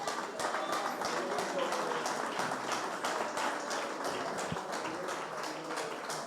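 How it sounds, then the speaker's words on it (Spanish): Congregation clapping during a Spanish-language church service, a steady spread of hand claps with a few sharper individual claps, fairly soft and a little distant. "dé ese aplauso al Señor"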